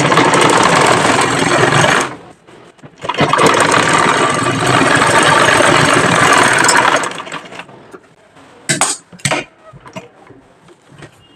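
A sewing machine runs loud and close in two long stitching bursts while sewing a salwar seam, then stops, leaving a few short clicks and handling knocks.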